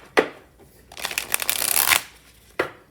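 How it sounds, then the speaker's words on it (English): A deck of tarot cards is shuffled up close: a sharp riffle snap, then a longer crisp fluttering run of cards, and another quick snap near the end. "This shuffle's pretty good."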